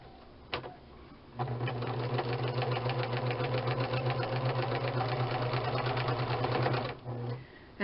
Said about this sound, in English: So I'm sewing across there.